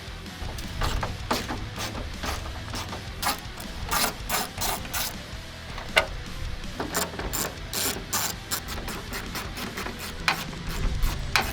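Bolts being loosened on a 2012 Ford Mustang during headlight removal, with rapid, close ratchet clicking in bursts, steady and fairly loud, and no talking.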